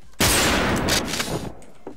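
Loud burst of automatic gunfire in the online shooter WolfTeam, a dense rapid volley lasting over a second before trailing off into a few fainter shots, close and harsh.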